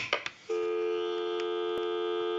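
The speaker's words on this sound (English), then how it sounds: "our number will be busy" A steady telephone busy tone drones on, preceded by a couple of short clicks and beeps, heard through a TS22 lineman's buttset.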